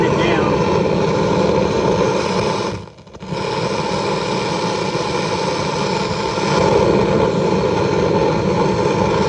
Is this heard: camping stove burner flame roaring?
yes